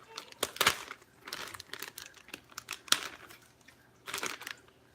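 A bag of powdered sugar is slit open and handled, giving close crinkling and crumpling plastic rustles in irregular bursts with brief pauses between, with no talking.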